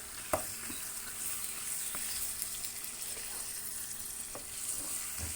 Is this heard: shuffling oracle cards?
no